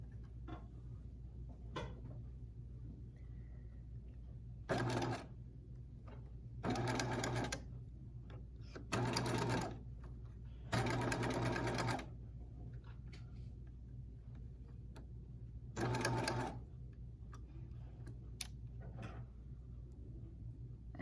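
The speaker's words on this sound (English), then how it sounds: "I'm going to go to the machine and I'm going to stitch close to the edge of the bias tape." Sewing machine stitching close to the edge of bias tape for a seam finish, running in several short bursts of rapid mechanical whirring separated by quiet pauses, close and fairly soft.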